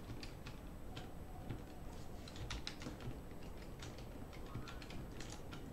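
Computer keyboard keys are tapped in quick, irregular bursts of light clicks to open the cheat console in Crusader Kings 3. The keystrokes sound close but soft, and no one speaks.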